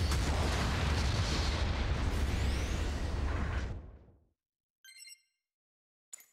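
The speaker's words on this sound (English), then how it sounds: "Long-range supporting fire incoming" Long-range supporting artillery fire in the game S Gundam, a loud sustained rumbling barrage that fades out into silence, followed by two short, faint electronic blips.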